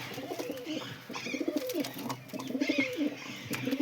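Pigeons coo in soft, throaty repeated phrases, fairly close, several calls overlapping in a rolling rhythm with no talking.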